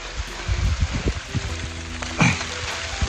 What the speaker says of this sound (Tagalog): sinundan na tayo ng ulan